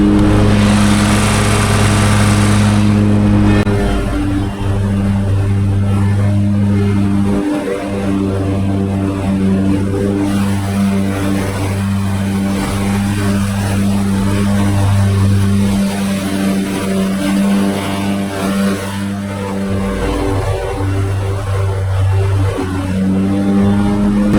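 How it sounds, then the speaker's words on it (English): A lawn mower engine labors steadily as it bogs down in thick, wet, clumpy grass, a loud continuous drone that holds for the whole stretch with slight dips in pitch. "Bogging down. That's how thick it is."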